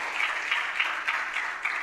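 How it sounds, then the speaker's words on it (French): Studio audience applauding loudly during a French-language television show, dense continuous clapping with slight surges throughout. "qu'on applaudit très fort."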